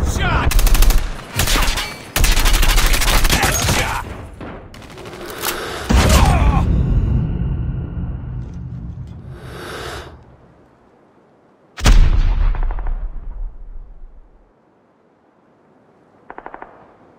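Call of Duty Mobile gunfire comes in loud automatic bursts and heavy booming shots, with gaps of quiet between volleys and a final short burst near the end.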